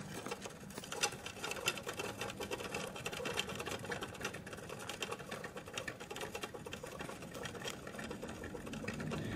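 A homemade frictionless magnetic gear spins on a 6 mm rod with a faint, steady whirring rattle, close but quiet, holding an even, busy texture without pauses.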